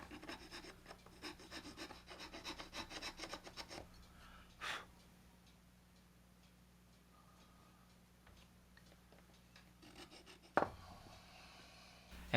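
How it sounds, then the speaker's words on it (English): A small file rasps along the window frames and seam of a diecast model car, quick rhythmic scraping strokes close up for about four seconds, then near-quiet with faint scattered scrapes and a sharp knock near the end. "With a small file, I cleaned up around the window frames and along the seam."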